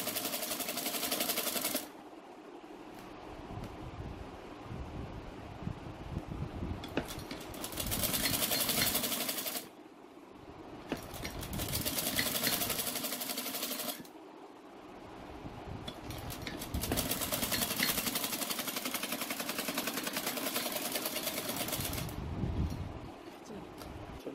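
A sewing machine stitches the collar of a gents' pleated kurta, running in steady close whirring bursts of several seconds each with short pauses between, fairly loud and without talking.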